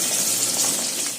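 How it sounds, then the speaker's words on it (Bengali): Water poured into a pan of chilli chicken in a home kitchen makes a steady, close splashing gush for about a second before cutting off abruptly. "চিলি চিকেনে এবার জল ঢালা হচ্ছে,"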